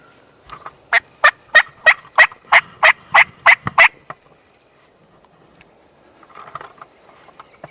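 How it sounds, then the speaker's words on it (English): Wild turkeys gobble during a Colorado spring hunt: a series of about ten loud, evenly spaced calls in quick rhythm, close by, followed by fainter distant gobbling after a quiet gap. "Still got a couple birds up here gobbling"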